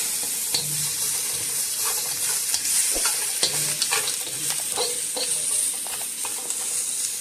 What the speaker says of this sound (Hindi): और इन सब चीज़ों को 5 मिनट तक हम फ्राई करते हैं।